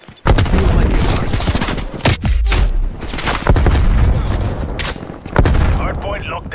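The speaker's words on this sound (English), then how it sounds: "Throwing frag." Frag grenade explosions and gunfire in a Black Ops Cold War multiplayer Hardpoint match, with several loud booms and bursts throughout alongside game voice callouts.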